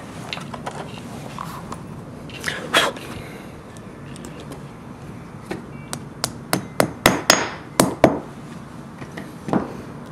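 Plastic wall anchors hammered into drilled holes beside a drafty door, heard as a series of close, sharp hammer taps, sparse at first and then a quicker run of regular blows, over quiet room noise.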